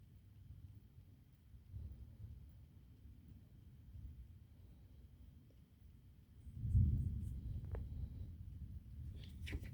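Low, distant thunder rolls and rumbles during a thunderstorm over Baienfurt, a soft steady grumble that swells louder near the end, with light wind noise.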